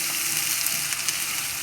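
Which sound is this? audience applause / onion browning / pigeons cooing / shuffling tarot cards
onion browning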